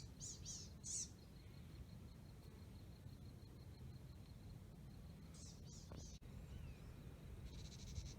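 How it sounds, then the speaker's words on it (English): A blue-gray gnatcatcher gives short, buzzy calls in small clusters at the start and again later, faint and distant against a steady outdoor rumble in a foggy canyon. "The little buzzy call is the blue-gray gnatcatcher."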